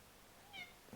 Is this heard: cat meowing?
yes